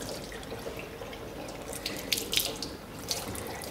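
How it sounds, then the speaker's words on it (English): Nasal douching bottle rinsed under a running tap, a steady splash of water into a sink with a few brighter drips and spatters near the end, close and fairly quiet. "clean the bottle or nozzle using water and dish soap."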